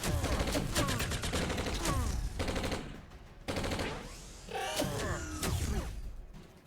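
Turrets firing guns in the video game Entropia Universe, rapid loud bursts of automatic gunfire with whooshing shots, continuous and dense over several seconds.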